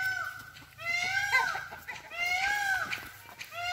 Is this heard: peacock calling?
yes